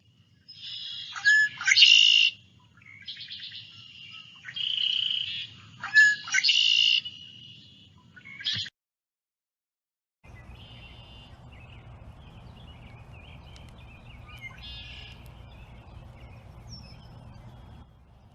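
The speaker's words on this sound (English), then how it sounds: "Let's listen to this call recorded on the Audubon app" Male red-winged blackbird calling at a wetland, a series of loud, buzzy, trilling song phrases repeated close by, followed by a steady low ambient hum.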